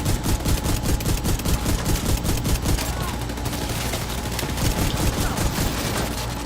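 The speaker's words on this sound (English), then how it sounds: "me shooting into the back of my shield" Rapid, sustained automatic gunfire in the Division 2 video game, a dense stream of loud shots running without a break for over six seconds, with faint talk beneath.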